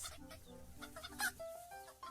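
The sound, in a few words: hens clucking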